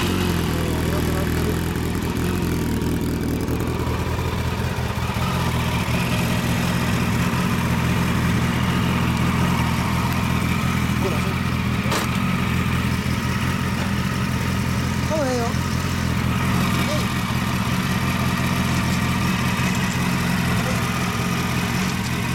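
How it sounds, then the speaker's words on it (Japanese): A 2007 Yamaha FZ1 Fazer motorcycle engine idles close by, a constant loud, low rumble that holds steady throughout, with occasional faint voices underneath. "エンジン音聞かせて"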